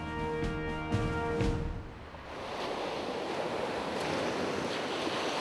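Surf washes onto the coral sand of Red Beach on Guadalcanal as a steady broadband rush of breaking waves, mixed with wind noise and some faint tonal sounds at the start.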